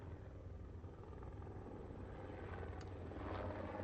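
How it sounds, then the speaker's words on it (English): Helicopters sound in a Nintendo video game trailer as a faint, steady rotor drone with low chopping pulses, growing slightly louder toward the end. "The helicopters reminded me of that Bayonetta 3."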